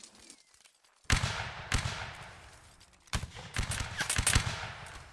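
Musket volleys crack out during a historical reenactment line battle, with a few scattered shots before two loud, near bursts of overlapping fire around one and three seconds that tail off into rolling reports, with no talk.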